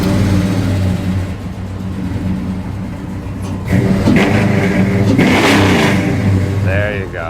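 A 1964 Dodge A330 Hemi with a fuel-injected engine and catalytic converters runs close by, a steady rumbling idle that swells louder partway through, with people talking over it.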